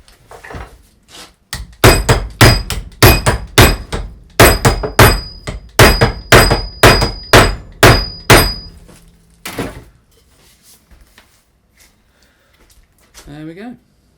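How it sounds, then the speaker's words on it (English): A hammer strikes the end of a wooden medieval mace haft in a fast, loud run of sharp blows, about fifteen in close succession, before falling quiet apart from a few faint knocks and rustles. "what I can do now is just hammer like crazy on the end here"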